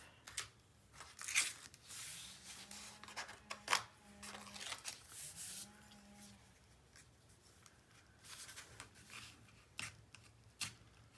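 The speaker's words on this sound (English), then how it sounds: "now I'm going to take this tape off" Tape peeled off a paper craft panel on a mini album page, giving several broadband tearing rasps spread across the clip over a low hum, with bursts of crinkling and handling noise in between.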